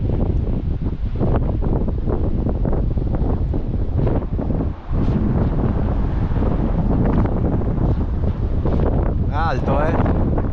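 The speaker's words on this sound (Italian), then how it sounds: "Sentite però il vento che c'è adesso." Heavy mountain wind in the Alps near Tignes buffets the microphone in loud, continuous rumbling gusts, with a voice faintly heard beneath the roar.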